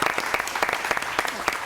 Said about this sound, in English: we can applaud that because there's that new logo